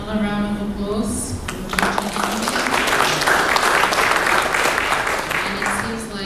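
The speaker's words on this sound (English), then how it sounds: "Another round of applause." A seated crowd at a memorandum of agreement signing between APTC, EPC, SWA and SPPCS bursts into sustained clapping after someone speaks, the applause building and holding steady, with speech returning over it at the end.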